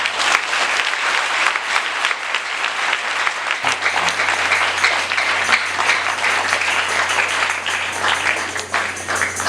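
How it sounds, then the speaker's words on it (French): A church congregation applauding the Holy Spirit with loud, sustained clapping from a large crowd, steady and dense throughout. "Acclamez le plus fort."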